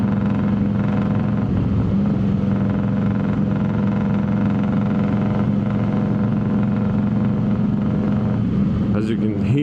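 Harley-Davidson Twin Cam motorcycle engine running badly, a loud, steady, close idle with a rough, uneven low rumble throughout, and a brief higher noise near the end.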